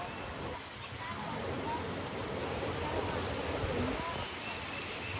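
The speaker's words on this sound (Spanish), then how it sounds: "qué lindo se oye esas corrientes de agua allá arriba" A mountain stream flows high on a slope near Chattanooga, Tennessee, a soft continuous rushing hiss of water heard fairly faint and steady throughout.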